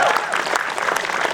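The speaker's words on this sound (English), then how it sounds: "a round of applause for director Sahab." A steady burst of clapping from a sizable audience, dense and sustained throughout.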